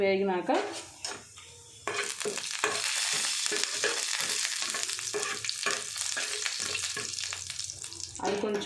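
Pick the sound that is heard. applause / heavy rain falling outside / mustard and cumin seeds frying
mustard and cumin seeds frying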